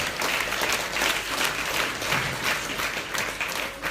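A congregation applauds during a church sermon on fasting and anointing, with steady, dense clapping that pulses in waves throughout, moderately loud and with no voices over it.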